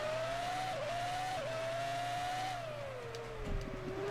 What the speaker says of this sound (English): The Renault sounds a lot nicer than the last car we were driving.